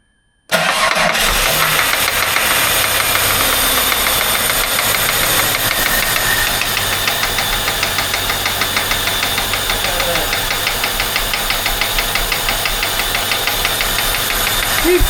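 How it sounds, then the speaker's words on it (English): A rebuilt L67 V6 engine with a top swap runs steadily just after start-up, its loud, continuous mechanical drone carrying a regular, rapid knocking tick throughout, close to the listener. "What about the knock, knock, knock?"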